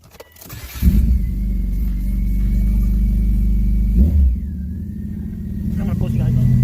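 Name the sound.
rebuilt BMW M52 car engine starting and revving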